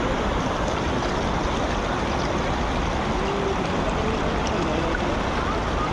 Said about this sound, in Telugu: ఇది వచ్చేసి బంధన్ వాటర్ ఫాల్